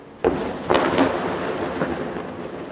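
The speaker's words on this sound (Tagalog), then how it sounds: "Tanaw mula sa southern Israel ang mga pagsabog sa Gaza." Deep booming blasts from explosions in Gaza rumble in the distance, heard from southern Israel, a few heavy thuds followed by a long rolling reverberation.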